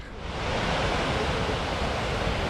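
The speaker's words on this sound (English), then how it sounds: "This is Fall Creek we just came up on." Steady rushing water of Fall Creek along a Tennessee gulf trail, a continuous close, loud broadband wash with no breaks and no voices.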